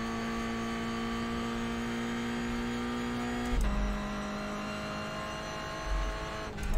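A GR Cup race car in iRacing at Road America holds full throttle, its engine a loud steady drone that cuts sharply at each upshift before climbing again, with two gear changes heard.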